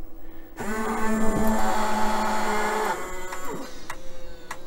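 A Mitsubishi Zero model kit mechanism switches on, giving a steady whirring motor hum with a sharp click near the start and further faint clicks as it resets, close and moderately loud.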